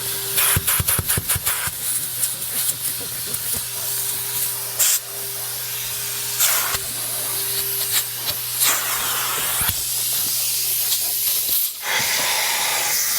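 A powerful vacuum with a tangential motor roars with a loud, airy hissing suction and steady motor hum, broken by bursts of rapid clicking and sudden surges in intake, during car interior cleaning.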